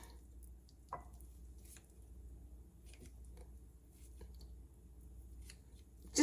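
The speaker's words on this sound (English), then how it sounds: "the only thing I'm doing is just cutting them up however you want your fish" Raw salmon being cut into pieces for home canning in 8-ounce jars, heard as a few faint, scattered snips and soft wet cuts in a quiet room, with a light knock at the very end.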